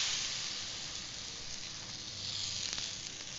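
Steady frying sizzle and hiss as a Maharashtrian bhajani thalipith flatbread cooks on a hot pan, continuous and fairly close with no talk.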